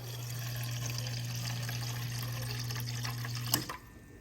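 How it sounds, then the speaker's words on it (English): Water pouring steadily into a seafood paella pan, a continuous splashing stream over a low hum that stops abruptly near the end. "I'm gonna go ahead and add 1 more cup of water, or like 1/2 cup of water"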